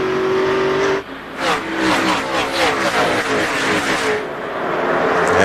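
NASCAR Winston Cup race cars at Phoenix International, engines roaring loudly as several cars sweep past in quick succession, pitch sliding as each one passes, with a brief dip before the roar builds again.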